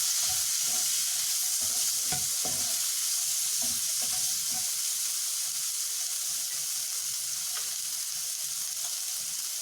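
Chopped tomatoes and green chillies fry in a pan for a vegan stuffed mushroom gravy, producing a steady, bright sizzle broken by scattered scraping knocks of a spoon stirring close by.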